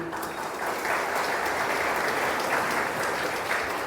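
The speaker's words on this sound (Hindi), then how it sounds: "ताली बजाओ अच्छी तरह।" An audience at a spiritual talk claps together, a dense, sustained burst of applause at even loudness throughout.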